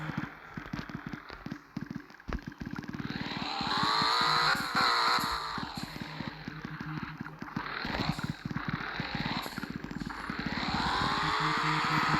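A video game vehicle engine cranks and starts up, then revs in rising and falling surges, loud and close with a buzzy, motorcycle-like drone.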